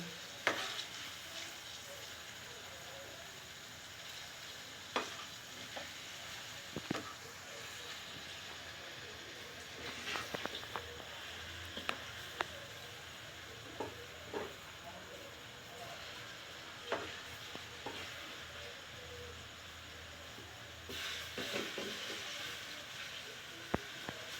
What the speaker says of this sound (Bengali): এবারে আমি আরেকটি পিঠ ভেজে নিচ্ছি। এবারে বড়াগুলো আমি আস্তে আস্তে উল্টে দেবো।